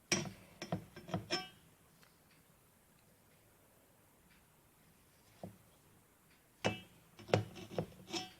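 A knife cuts through a tray of revani semolina cake, making bursts of soft scraping taps and clicks against the tray, a quiet pause, and then another cluster of cuts.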